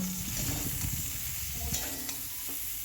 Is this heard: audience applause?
no